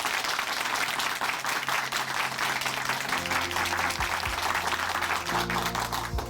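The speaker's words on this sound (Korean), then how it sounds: "다시 한번 박수 보내드릴게요." Church congregation applauding at Chuncheon Hanmaeum Church, a dense, steady wash of clapping throughout; partway through, low sustained music tones rise up beneath it.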